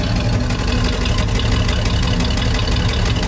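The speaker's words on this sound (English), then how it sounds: "now actually my truck has some pretty cool exhaust" A pickup truck with an aftermarket tip exhaust idles close by, a steady, loud low rumble with a fast regular pulse that holds evenly throughout.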